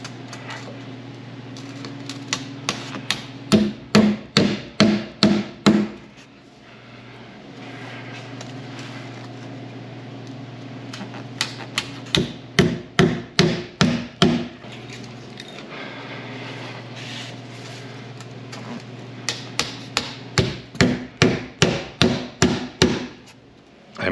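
Nails are hammered into XPS foam insulation board, shown as three bursts of quick, loud, evenly spaced hammer blows with short pauses between sets. The strikes ring close and sharp.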